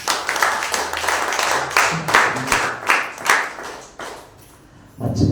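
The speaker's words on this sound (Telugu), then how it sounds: "సో మరొకసారి అయ్యగారు చప్పట్లు కొడదామా?" A church congregation at MB Hermon Mennonite Brethren ministries in Shivannaguda claps for the preacher in a steady rhythm of loud, close hand claps. The clapping fades briefly, then starts again.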